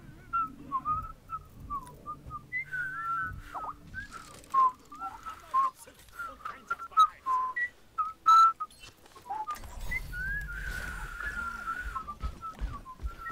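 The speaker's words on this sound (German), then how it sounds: "Ich weiß, ich kann schön pfeifen." A person whistles a melodic tune for several seconds, clear wavering notes in a lively rhythm with brief pauses, over a low background hum during a casual stream.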